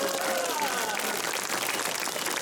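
Sustained audience applause at an outdoor song evening concert following a youth brass band's performance, a steady dense wash of clapping heard throughout at even volume.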